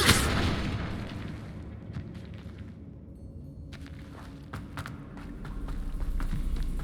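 Blasting-spell explosions in the Hogwarts Legacy video game, a dense rumbling boom at the start that fades into a low, busy battle din with scattered sharp cracks and impacts throughout.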